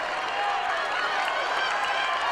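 Spartan crowd at a college wrestling match, Northwestern at Michigan State, swells into a steady, loud cheer with scattered clapping, a continuous roar from a packed arena without clear individual voices.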